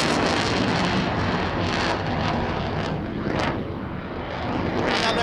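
Display aircraft at the Scottish International Air Show 2016 pitching up into a vertical departure, its engine roaring loudly and steadily throughout with wind buffeting, rising and falling slightly as it climbs away.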